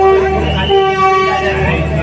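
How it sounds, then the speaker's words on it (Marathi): Mangalore Express train standing at Thane station, its horn sounding as steady tones over a busy platform din, loud and close, with crowd voices mixed in throughout. "ह्या ठाणा स्टेशनला ट्रेन पोचली आहे"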